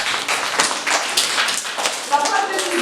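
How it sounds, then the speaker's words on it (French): Young schoolchildren clap for a classmate in a classroom, giving a close, uneven patter of many small hands. A few voices can be heard amid the applause. "Applaudissez pour l'ami."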